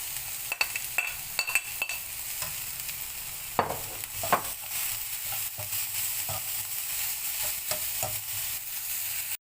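Grated carrot sautéing with cumin in a pan for kuzhi paniyaram batter, a steady close sizzle with repeated sharp spatula scrapes and taps at an uneven pace, no talk.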